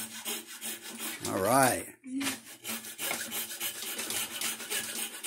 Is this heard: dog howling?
no